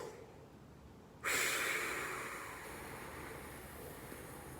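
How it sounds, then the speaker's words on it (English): Deep, steady breath drawn through a toy airplane breathing tool during a breathing exercise, starting abruptly as one long, fairly close airy inhale that slowly fades while continuing, with no talking. "So grab your airplane. Remember, breathe in with an O."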